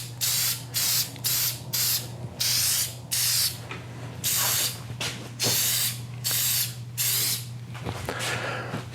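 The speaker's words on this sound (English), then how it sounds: "This is a spray shellac." Repeated short bursts of aerosol spray shellac sanding sealer hiss onto a wooden natural-edge bowl, about a dozen even pulses separated by brief pauses and faint clicks.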